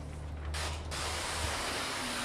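Spray bottle misting water onto flat window glass ahead of fitting tint film: a short hissing burst followed by a steady, faint spray hiss, close by, with no talk.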